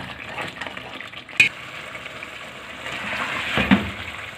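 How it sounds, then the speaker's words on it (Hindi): Mutton masala sizzles and crackles steadily in hot oil while being fried down in a pan, with a couple of sharper spatters and a brief stirring scrape; no voices. "बस अब ऑयल निकलने तक हम इसको अच्छी तरह से भूनेंगे"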